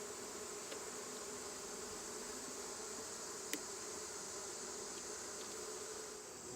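Honeybees buzzing around an opened hive during an inspection, a dense steady hum that stays constant and fairly soft with no talking over it.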